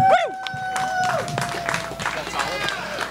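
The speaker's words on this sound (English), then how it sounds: "So please give them a big round of applause." Applause from a crowd, dense clapping with a murmur of voices and a few whistles, fairly loud and sustained.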